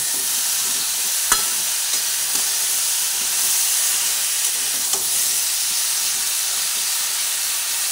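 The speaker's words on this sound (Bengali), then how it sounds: "এইভাবে আমি 4-5 মিনিট মতো ভাজতে দেবো।" Pumpkin pieces frying in a pan give a steady, loud sizzle and hiss, broken by a few faint clicks of stirring, with no voices.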